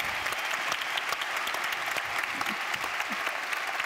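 Audience applause at a medical panel event, a steady wash of many hands clapping at moderate distance, fairly even and sustained throughout without talk.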